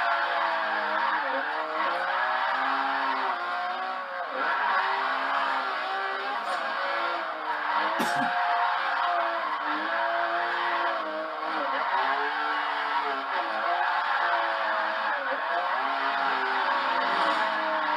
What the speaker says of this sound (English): I just heard an engine.